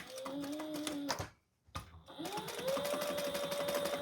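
A sewing machine stitching down zipper tape on a covered outdoor footstool cushion, running in a fast steady whirring rattle, pausing briefly, then starting up again and continuing evenly, close and without talk.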